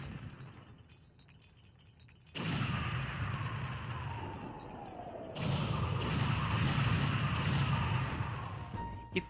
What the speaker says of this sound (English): it leads on to the biggest and most satisfying explosion in the whole game